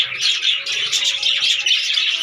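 Budgerigars chirp and twitter continuously in a breeding room, a dense, close, loud chorus of high overlapping calls with no pauses.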